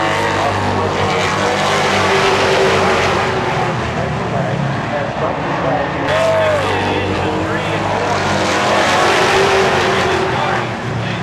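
NASCAR race cars and late model trucks roaring around Seekonk Speedway, a dense, continuous engine drone with passing swells and a distant track-wide roar, loud throughout while an announcer talks over it.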